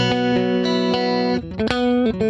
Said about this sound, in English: It's just a beautiful, clean-sounding amp. So here's the amp by itself.